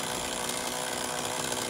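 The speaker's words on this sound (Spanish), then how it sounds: "cortando pino ahorita" A power saw cuts through pine wood, a steady, loud, buzzing whine that holds unbroken throughout with no pauses and no voices.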